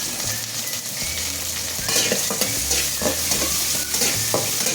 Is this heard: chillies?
yes